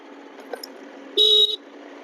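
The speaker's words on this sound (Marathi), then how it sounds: "इथं इंडिकेटर हॉर्न देऊ आपण" A single loud scooter horn beep lasting under half a second, sharp and close, over a steady low engine hum.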